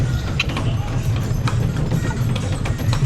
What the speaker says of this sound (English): I love going on this horse and cart.